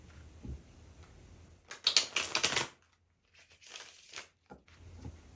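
A short burst of tarot cards being shuffled, crisp riffling and flapping for about a second, then quieter card handling amid near silence.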